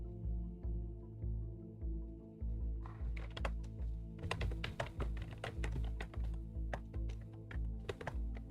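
Fingers type on a computer keyboard, a quick irregular patter of key taps that starts a few seconds in and continues over a low steady rhythmic background music loop.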